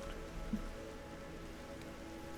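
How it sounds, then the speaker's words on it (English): Steady rain falls in Horizon Zero Dawn as a dense, even patter on surfaces that continues without a break. "Am I feeling the rain?"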